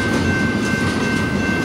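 A CP Rail freight train rolls past up close, loud and steady, its heavy rumble carrying a faint repeating clatter of wheels on track and a thin high whine, with no talk.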